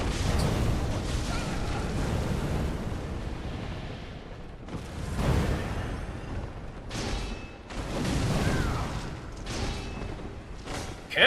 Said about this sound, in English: Cannon noise!